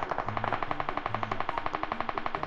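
Automatic gunfire from the video game PUBG Mobile: a fast, unbroken burst of evenly spaced shots, loud and close, rattling through the whole stretch with no voices.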